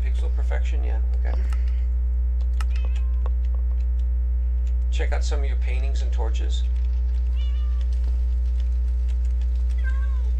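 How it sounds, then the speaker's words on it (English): Calico cats in a pixel-style video game meow in short, repeated calls over a steady low hum, with people chatting between and over the meows. "Little calico cats."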